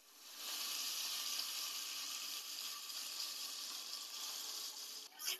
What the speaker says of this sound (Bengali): এপিট ওপিট করে অল্প করে ভেজে নিতে হবে পনিরটা।